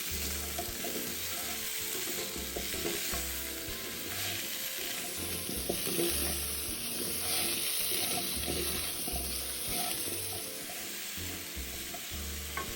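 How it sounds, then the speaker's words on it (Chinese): Taro and cassava being stir-fried with garlic in a pan, a steady sizzle with scraping stir strokes and a faint running-water hiss throughout, no talk. "接着再加入芋頭與木薯，翻炒約3到5分鐘"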